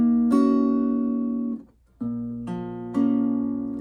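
An acoustic guitar fingerpicks barre chords from EDEN's "Sci-Fi," with several plucked notes and chords ringing out clearly and a brief gap between phrases, close up with no talk.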